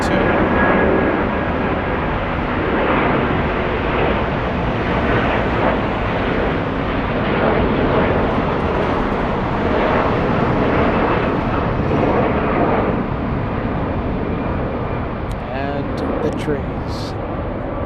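A Discover Airlines jet passing at Frankfurt Airport, its loud continuous engine roar dominating throughout, with a voice talking over it.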